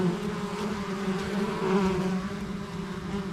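Steady, dense buzzing of many honeybees close by at a hive in autumn, some carrying pollen, a continuous drone with no talking.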